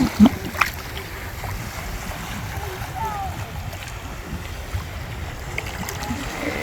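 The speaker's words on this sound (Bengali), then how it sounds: "একটু বাতাস বইছে সেই জন্য জলের ঢেউ আছে বেশ ভালো ঢেউ আছে" Wind gusts and sea waves wash steadily along Blue Lagoon beach in Malaysia, a continuous breezy rush with rolling surf and faint, muffled voices in the background.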